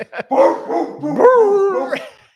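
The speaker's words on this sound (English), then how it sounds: "I've heard this dog bark every show on a Wednesday." A dog at an outdoor summer show barks in a few quick, close, loud yips and bow-wows, then draws out a whimpering, howl-like whine before a final short bark.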